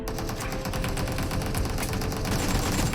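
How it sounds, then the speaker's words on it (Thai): Rapid bursts of AK rifle fire in PUBG Mobile's infection mode, loud and continuous with dense repeated shots across the whole stretch, no talk over it. "ยิงตัดกำลังครับยิงตัดกำลัง ปืนที่แนะนำเป็นปืน AK นะครับ"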